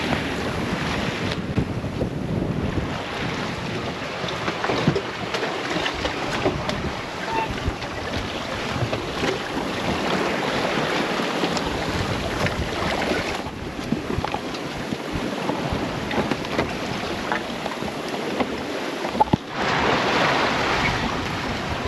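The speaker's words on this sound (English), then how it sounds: "it's pretty gusty right now" Gusty wind buffets the microphone aboard a solo sailboat at sea, with continuous roaring rush and waves washing against the hull, surging in loud bursts with brief lulls and no talking.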